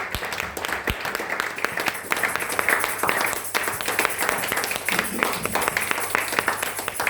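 A church congregation claps steadily and loudly throughout, dense rapid applause filling the space with sharp hand strikes, a faint voice beneath.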